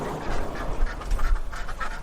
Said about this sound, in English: We've got ducks and geese in here.